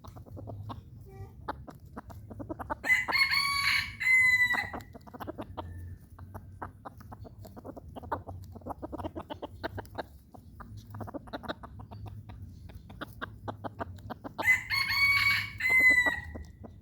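A rooster crows loudly twice, several seconds apart, each call long and strained, while other fowl cluck and scratch nearby in a steady farmyard murmur between the crows.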